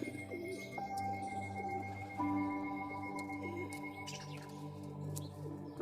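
Flying pigeons coo softly over a steady low hum, with a few faint chirps mixed in, at a pigeon club.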